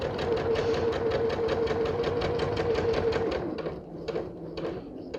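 A sewing machine stitching a pieced Ohio Star quilt block, running in a fast, steady mechanical rhythm close by, then slowing to short uneven bursts toward the end.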